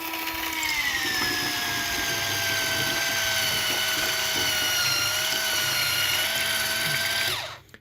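A Kiwi KMX-3612 cordless hand mixer on its first speed beats eggs with a steady, close electric whine for about seven seconds, then winds down and stops.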